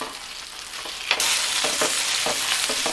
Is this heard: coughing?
no